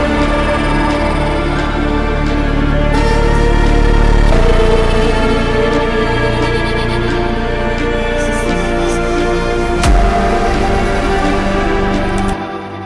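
A dense drum and bass track with orchestral layers plays continuously, heavy bass and busy percussion filling the mix from start to finish.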